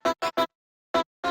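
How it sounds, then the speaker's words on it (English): A glitchy, very fast chop of a sample in a beat: three rapid bright bursts, a brief silence, then two more, each short and clipped, alone with no voices. "And I also did this glitchy,"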